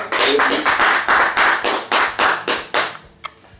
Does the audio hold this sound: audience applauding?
yes